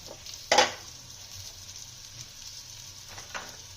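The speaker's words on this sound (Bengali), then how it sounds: "এই তওয়ায় বসিয়ে দিলাম বাটার দিয়ে মোমোটা দিয়ে দিচ্ছি" Momos hitting butter on a hot tawa give a sudden loud sizzle burst, then fade to a low hiss, with a second, softer crackle a few seconds later.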